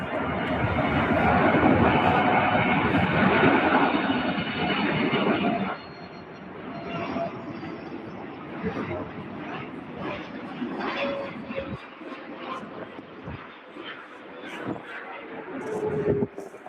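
A UPS Boeing 747-8 in Queen of the Skies livery lands at the Louisville Worldport, loud engine rumble for several seconds, then fading to a lower, uneven roar with a voice talking over it.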